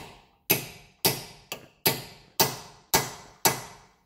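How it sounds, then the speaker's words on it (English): Seven sharp metallic hammer blows on a punch, staking an axle nut during CV shaft and hub work on a 2001 Subaru Outback; evenly spaced, loud and close, each ringing briefly, no talking. "Don't forget to get a punch and stake the nut."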